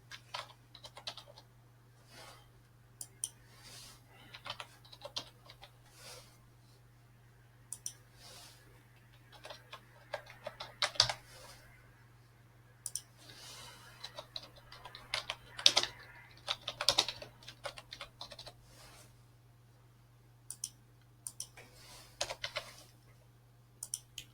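Keys clatter in irregular bursts as an address is typed on a computer keyboard for an online tax registration form, close and fairly quiet over a steady low hum, with no talking.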